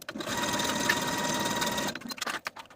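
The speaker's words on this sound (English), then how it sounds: "we're going to sew from the top to the point with a 3/8 inch seam allowance" A sewing machine runs a continuous stitching whir for about two seconds while sewing fabric shoulder-tie straps with a 3/8 inch seam, then stops and gives way to a few softer clicks and handling noises.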